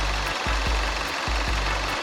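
A Hyundai Sonata DN8 with a 2.0 gasoline engine idles under the open hood, giving a steady, fairly quiet low hum with faint periodic pulses throughout.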